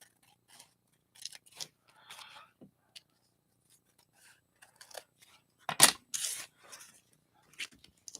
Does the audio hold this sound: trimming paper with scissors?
yes